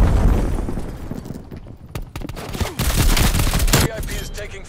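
Rapid automatic gunfire and sharp shots from a Call of Duty: Black Ops Cold War match ring out in dense bursts, loud and close, with occasional booming impacts layered over the firefight.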